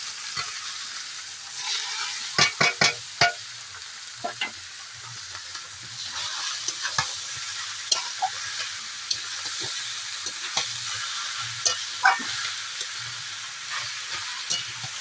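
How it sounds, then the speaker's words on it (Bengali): Pea greens frying in a pan with cumin and nigella seeds give a steady, close sizzle with scattered crackles and a few sharp clicks of stirring, no voices. "এর ভিতরে একটু জিরা, কালো জিরা দেওয়া হলো, শাকটা দিয়ে দেওয়া হলো।"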